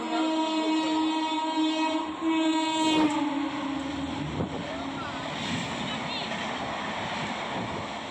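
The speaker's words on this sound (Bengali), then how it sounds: "এই যে ট্রেন দেখে মনে হচ্ছে মেলটা" A mail express train rushes past close by with a sustained roar of wheels and carriages, a horn tone sounding briefly near the start, then a steady rumbling wash as the cars pass.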